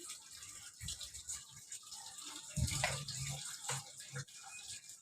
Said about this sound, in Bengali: ডালের জল রাখবো জলটা দিয়ে দিলাম